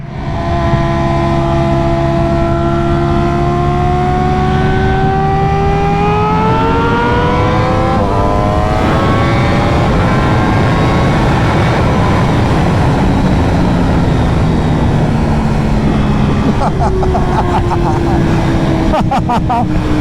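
A 2023 Ducati Panigale V4 R ridden on the road, with a loud sustained engine drone whose pitch climbs and falls through the gears over strong wind rush, and talk running underneath.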